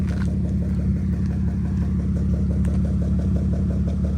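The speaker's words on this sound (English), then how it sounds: "Hit the gas a little." A worn BMW E46 engine revving under light throttle as the gas pedal is pressed, a loud, steady rumbling drone with a pulsing idle rhythm, close up and heard alone without talk.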